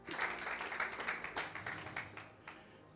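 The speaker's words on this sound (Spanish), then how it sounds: "Está bien que aplaudamos" A church congregation applauds together, a dense, fairly loud wash of clapping that gradually thins and fades.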